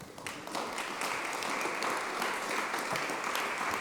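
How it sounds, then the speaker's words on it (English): A festival panel audience gives sustained, even applause throughout, moderately loud and dense with no voices standing out. "So let's give our experts a warm applause."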